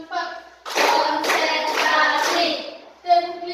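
A group of children claps a counted pattern in bursts, with rapid clustered hand claps and short spoken or sung counts before and after.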